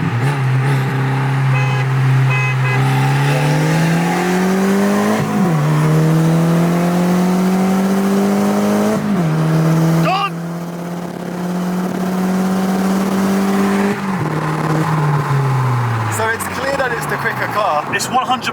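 A Renault Clio 182 and an Audi Mk1 TT run a rolling race, engines droning loudly and climbing in pitch through several gear changes, with short dips between pulls, heard from inside a car.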